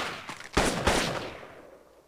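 Gunfire in the Black Hawk Down video game: two sharp, loud shots close together with a ragged burst before them, each trailing off in a long, fading echo.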